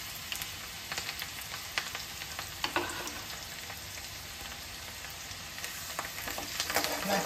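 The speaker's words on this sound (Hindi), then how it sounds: "थोड़ा सा फ्राई कर लीजिए इसको" Food frying in a pan while Indian-style macaroni pasta is cooked makes a quiet, steady crackling sizzle, broken by occasional scraping stir clicks.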